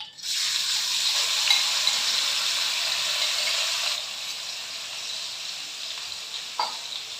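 Prawns with salt and turmeric sizzle in hot oil with black cumin, a steady close crackling hiss that eases slightly midway, with a faint stir or clink near the end.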